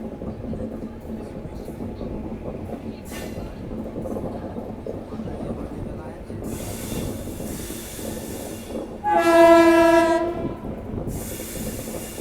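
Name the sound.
train approaching Shahjahanpur railway station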